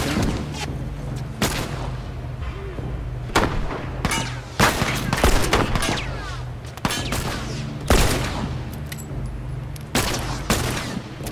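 Revolver shots fired through a fence in The Last of Us game, a series of loud, sharp blasts spread across the span over a steady low background rumble, with a few bursts clustered close together.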